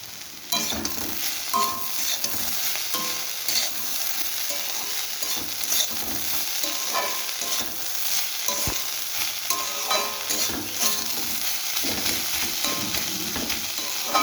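Steady sizzling of spiny gourd stir-frying in a hot pan with frequent scraping and stirring clatter of a spatula, continuous and fairly close, no voices.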